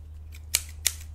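Scissors snipping, three crisp metallic cuts spaced evenly over a low steady hum, close and clear with no talking.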